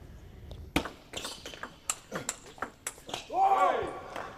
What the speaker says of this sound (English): That is the sound of table tennis